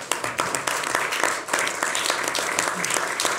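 Audience applause at a French political event, a dense patter of many hands clapping steadily, with a few sharper individual claps standing out near the front.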